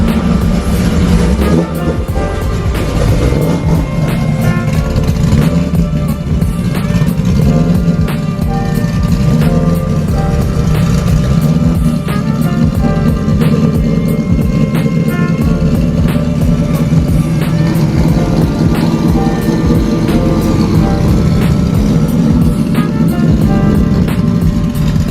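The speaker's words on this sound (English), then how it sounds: "Let's get this cold start in." A Shelby GT500 with open headers and Pypes exhaust cutouts roars through a cold start, its loud, dense engine rumble holding steady and close for the whole stretch with no talking.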